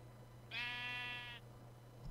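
One clear, fairly loud bleat from a Minecraft sheep lasting close to a second, set over a constant low hum with no talking.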